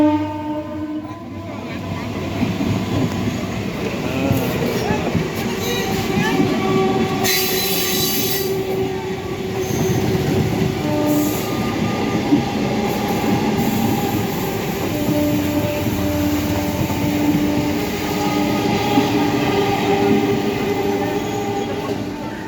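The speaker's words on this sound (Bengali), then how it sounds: "দেখো বন্ধুরা, আমাদের পাশ দিয়ে কিন্তু এখন ট্রেন যাচ্ছে।" A train rolls past a Bengal village beside a large bamboo grove, its steady wheel rumble and rail clatter filling the scene with a brief high squeal and a faint horn partway through, loud and continuous throughout.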